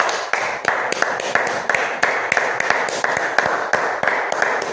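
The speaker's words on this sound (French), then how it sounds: "Applaudissons pour le Seigneur Jésus." A church congregation at a French-language revival service claps in a loose rhythm of distinct, fairly close hand claps that run evenly through the stretch.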